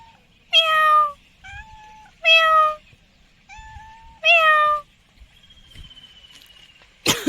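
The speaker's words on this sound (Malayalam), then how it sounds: "ഒരു പൂച്ച കണ്ടോ നമ്മുടെ കാൽ ചവിട്ടിൽ വന്നിരുന്ന് കരയുന്ന" A cat sitting at someone's feet meows loudly and close, giving three long cries with softer mews between, followed by a sharp thump at the end.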